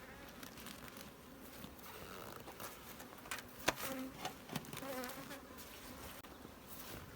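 Honeybees buzz around a beehive while being fed cake and syrup, a faint, steady swarm hum running throughout with a few brief knocks and taps.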